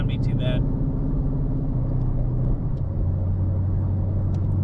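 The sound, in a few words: 2017 Ford Mustang GT driving with cargo carrier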